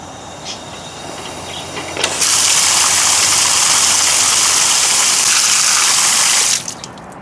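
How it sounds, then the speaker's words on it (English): Water is turned on and rushes through newly soldered copper plumbing pipes, a loud steady gushing hiss that begins abruptly after a quiet start, holds for several seconds, then cuts off. "I'm going to turn the water on and test it out"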